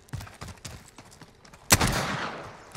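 A loud gunshot burst from the shooter game Call of Duty: Modern Warfare cracks out near the end, trailing into a reverberant tail, after a stretch of softer clicking game sounds.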